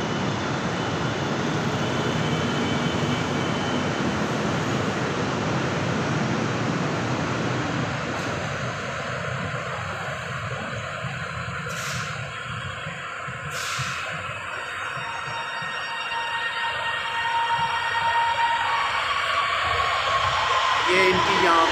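A passenger train approaching and crossing another, heard as a steady broad rumble and hiss that eases and then builds again, with two sharp high whistle-like tones partway through and talk over the noise.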